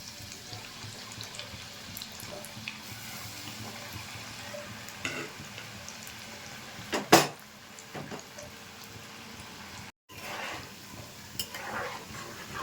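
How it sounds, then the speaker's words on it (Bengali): Chushi pithe frying in hot refined oil in a kadai, a steady soft sizzle and bubbling with occasional stirring clinks and one sharp scrape midway. "এবার আমি এগুলো ভেজে নেবো একটু"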